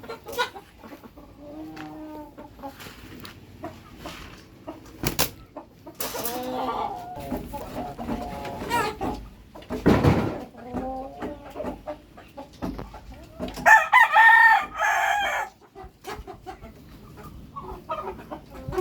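Backyard chickens cluck in short bursts with scattered squawks, and a rooster crows loudly toward the end against a quiet background.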